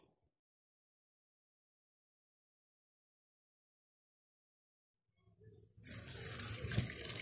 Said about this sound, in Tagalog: hugasan natin mabuti ang ating balat ng saging